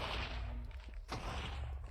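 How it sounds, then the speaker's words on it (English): Massive explosion in the video game Minecraft, a loud, dense rumbling blast that fills the whole clip with a sharp crack about midway, with no voices. "It's already way bigger than any explosion you'll see in vanilla Minecraft."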